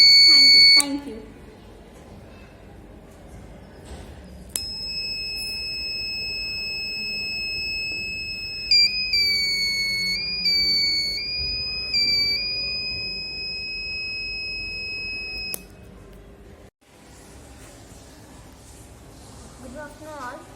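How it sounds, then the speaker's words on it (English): A student-built rain detector alarm at a school science day exhibit sounds a loud, steady electronic buzzer tone with warbling pitch shifts, running continuously for about fifteen seconds before cutting off, over faint room murmur. "the alarm will blow until the rain stops."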